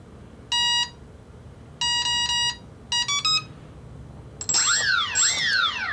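An electronic speed controller for an RC model plane sounds a series of electronic calibration beeps: a single tone, then a longer double beep, a rapid chirping run, and finally rising-and-falling warbling tones, all loud and close.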